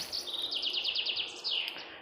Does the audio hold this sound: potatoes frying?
no